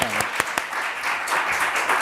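Applause from a studio audience fills the moment with dense, continuous clapping, while a voice briefly speaks near the start.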